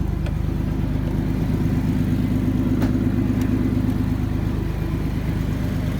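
A 2001 Chevy S10 crew cab 4x4 pickup engine idles steadily and close by, a constant low rumble with no revving and no talk over it.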